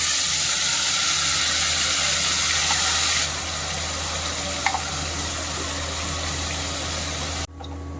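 Tomato puree hits hot refined oil already holding asafoetida and cumin, setting off a loud, steady frying hiss that eases a little partway through and cuts off abruptly just before the end.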